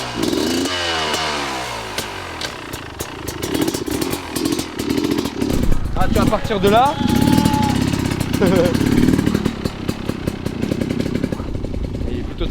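An off-road motorcycle engine drones steadily throughout a tout-terrain outing, with revving swells and rising pitch sweeps as it rides, while people talk over it.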